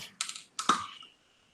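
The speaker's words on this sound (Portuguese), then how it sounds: "A Thaís está digitando aqui uma pergunta" Someone types a question on a computer keyboard, two short bursts of quick key clicks, close and fairly quiet, with no talk.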